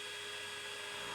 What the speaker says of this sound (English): Drill 4 holes